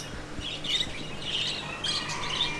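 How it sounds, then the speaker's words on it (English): A flock of birds at a giant tropical fish market in Thailand keeps up a noisy racket of overlapping squawks and chirps over a steady market background, with no talk. "Loads of birds making a racket"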